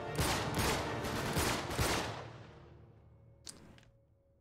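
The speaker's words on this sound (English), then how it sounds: "Why are there two gun sounds and he's only like having the recoil once?" Gunfire in the video game Uncharted 3, set in a lost desert city: a dense burst of loud shots for about two seconds that fades into a tail, followed by one brief sharp report near the end.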